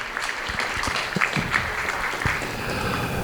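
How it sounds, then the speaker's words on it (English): Guests at a village tenth-anniversary party give a round of applause, moderately close clapping with some distinct individual claps standing out over the steady patter. "So a round of applause for those people"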